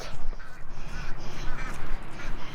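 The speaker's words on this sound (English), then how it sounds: "see me take the baby ducks out to go out to the pond and free-range" Baby ducks quack near a farm pond while being let out to free-range, with loud, busy bird calls over heavy rough background noise and no clear speech.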